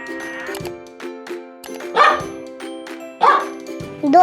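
A dog barks several times, short clear yaps spaced about a second apart over a sustained musical tone, close and fairly loud.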